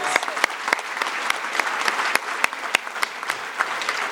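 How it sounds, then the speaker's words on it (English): An audience at a Republican women's political keynote event gives another round of applause, steady crowd clapping with sharp individual claps standing out rhythmically through the mix. "So I think just another round of applause."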